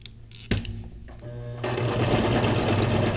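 A sewing machine backstitching over fabric scraps: a click and short halting run, then a quick, steady mechanical whir of the needle that carries on to the end, close by with no talk.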